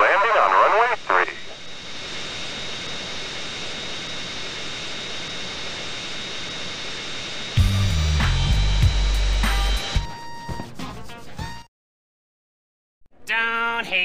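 An airplane lands at Las Venturas International in GTA San Andreas with a steady, loud engine drone and radio-style voices over it. A rumbling, crunchy burst follows, then abrupt silence and a brief return of noise.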